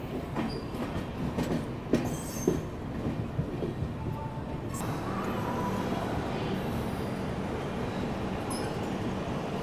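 An AC express train running from Bangalore to Howrah near Cuttack rumbles along the rails with a continuous wheel roar, a few sharp clanks and brief squeals early, then settles into a steady, moderately loud drone.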